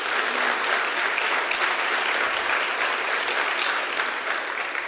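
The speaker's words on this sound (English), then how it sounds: "Let's give Lou a round of applause." A church congregation applauds a member of a floating support team during a Sunday service, with steady, dense clapping that carries on evenly for the whole stretch.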